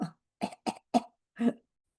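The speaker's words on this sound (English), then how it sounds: "Hold on 1 second, let me cough." A person coughs five times in short, separate bursts, close and fairly quiet, with silence between each cough.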